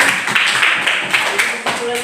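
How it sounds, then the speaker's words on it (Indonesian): Students in a classroom give sustained, dense applause that holds steady for about two seconds. "Tepuk tangan dulu untuk Putri."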